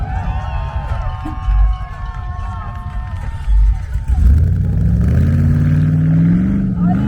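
A Cybertruck races at speed across an off-road competition course, its engine and tires producing a loud, sustained roar that builds toward the end, with crowd noise in the background.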